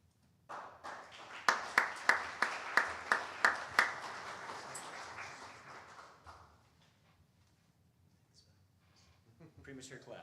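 A public outreach meeting for a draft master plan, where scattered claps break out early, a run of about ten sharp, evenly spaced claps rising into brief applause that fades out, with voices talking at low level.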